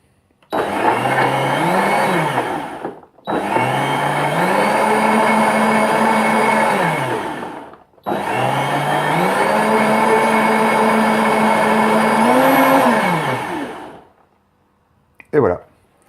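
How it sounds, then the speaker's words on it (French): A countertop blender mixes hot bulletproof coffee in three long, loud bursts with short pauses between them. Each burst carries a steady motor whine that rises in pitch as it spins up and drops as it winds down, followed by a brief clatter. "J'allume mon mixeur."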